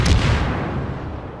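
A Gnevy destroyer's guns fire at a Scharnhorst in World of Warships: one close, heavy boom that rolls off into a long, fading rumble.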